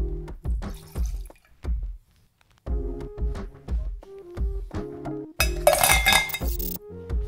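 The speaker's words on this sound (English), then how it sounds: "Top the mug with ice." Ice cubes dropped into a copper mug for a Moscow Mule, a run of sharp, close clinks in quick clusters with brief pauses, then a denser rattling burst near the end.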